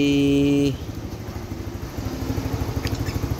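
Suzuki Skydrive motorcycle engine idling just after starting, a steady low putter with a faint rhythmic pulse, close by and alone with no talk, following a brief tonal starter-like hum at the very beginning.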